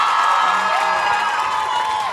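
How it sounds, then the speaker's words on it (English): A live audience roars with sustained applause and cheering for SZA, a dense wash of clapping and whoops from a crowd, loud and continuous throughout, with no clear speech on top. "Can we give an amazing round of applause to SZA?"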